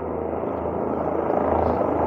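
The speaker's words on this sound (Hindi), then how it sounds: "हेलीपैड, हेलीकॉप्टर लैंड होते हुए।" A helicopter landing at a helipad near Pari Mahal gardens in Kashmir, its rotor and engine drone loud, close and continuous throughout.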